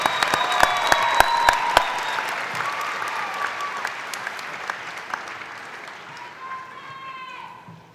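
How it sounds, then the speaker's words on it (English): A large crowd applauds loudly, with sharp individual claps standing out early before the clapping gradually thins and fades, a voice briefly audible at the end. "One last big round of applause for our bachelor's graduates"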